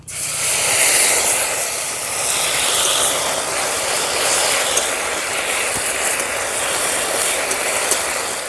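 Panch phoron, cumin and ginger paste sizzle in hot oil with dry red chilli and bay leaf, a steady loud hiss that continues unbroken without talk.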